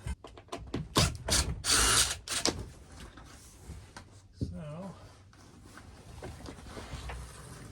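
Ratchet driver backing screws out of the top of a Jayco pop-up camper, rapid loud clicking bursts up close, then a voice and quieter intermittent clicks and scraping.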